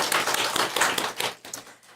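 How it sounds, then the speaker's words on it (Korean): Applause from a church congregation at a combined all-generations worship service, thanking a missionary after his sermon; a dense, steady patter of many hands clapping at close-to-moderate distance, tapering off near the end. "말씀 전해주신 선교사님께 감사의 박수 보내드리도록 하겠습니다"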